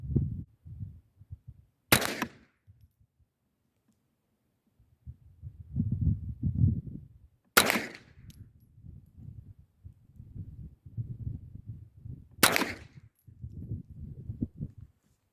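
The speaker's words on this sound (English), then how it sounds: "So I'm going to take her off safety because I'm ready to fire. And let's send 3 downrange." Three sharp gunshots from a handgun fitted with a cheap red dot sight, spaced several seconds apart at an outdoor range, with low rustling and handling noise between shots.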